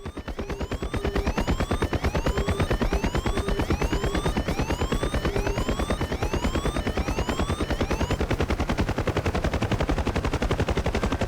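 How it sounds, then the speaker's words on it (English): Huey helicopter rotor in the DCS World flight simulator picking up speed, a steady, loud rapid thumping chop that keeps going throughout, with a rising whine above it and no talking. "Listen to the propeller, it's picking up."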